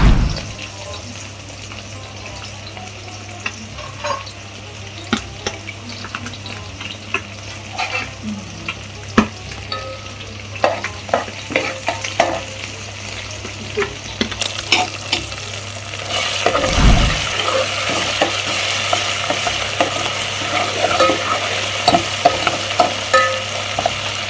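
Onions fry in oil with cumin seeds and mustard seeds in a pan, giving a steady low sizzle with scattered pops and stirring scrapes, growing louder and busier toward the end.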